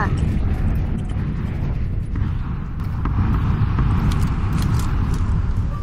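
A vehicle engine in the battle royale video game PUBG rumbles loudly and continuously, a dense low roar with a slight swell partway through, while players' voices can be heard over it.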